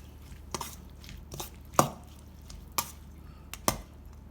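Spoon or utensil tapping a bowl while Thai winged bean salad with sliced shallots and fresh shrimp is stirred, giving a few sparse, sharp clinks over a quiet background.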